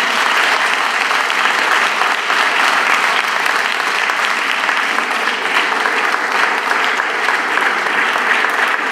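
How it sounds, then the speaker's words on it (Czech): Sustained audience applause at a Paris 2024 Olympics talk event, dense steady clapping from a crowd, loud and continuous throughout with no talk over it. "potlesk pro Anežku a Pepu."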